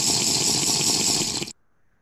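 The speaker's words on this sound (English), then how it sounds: "this is the Minecraft drinking water" Minecraft drinking water sound effect from the video game: a dense, steady watery gulping rush that plays loudly for about a second and a half, then cuts off abruptly into near silence.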